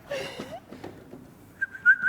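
A person at a live tabletop gaming show whistles a few short, clear rising notes near the end, following some breathy attempts and faint talk.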